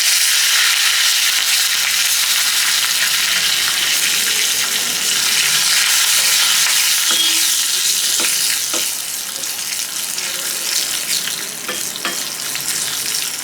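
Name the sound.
tempering spices sizzling in oil before adding curry leaves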